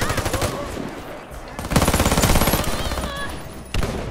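An Uzi Pro submachine gun in a video game fires in rapid bursts, a loud rattling stream of shots that pauses and resumes, with brief metallic game effects between volleys.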